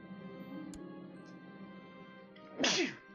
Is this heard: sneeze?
yes